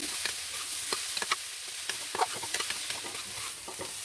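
Boiled potato kebab mixture, already seasoned with spices, sizzles and fries in a pan with scattered stirring scrapes, a steady close crackle without talk.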